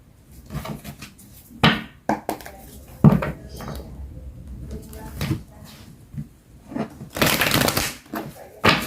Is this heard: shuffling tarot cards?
yes